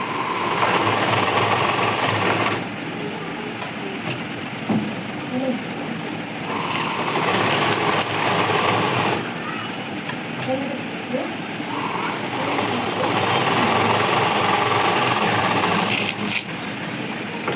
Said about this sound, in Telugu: జస్ట్ మొత్తం ఇక్కడ కుట్టుకోండి, రెడీ చేసుకోండి